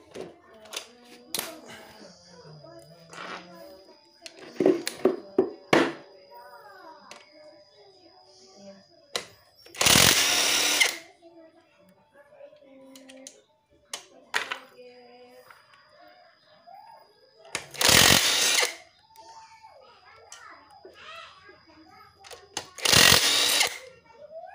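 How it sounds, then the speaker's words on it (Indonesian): Bolts being loosened from the cylinder head of a Honda Vario 125 scooter with a power tool, heard as three loud, harsh bursts of a few seconds each between tool clinks, with a rooster crowing in the background. "Setelah itu kita lanjut lepas baut ini,"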